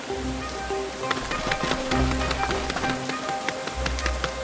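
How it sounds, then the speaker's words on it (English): Heavy rain falls steadily on a garden, a dense patter with sharp individual drop hits over a continuous low rumble, loud and close throughout. "Rain starts falling. First a few drops, then heavy rain."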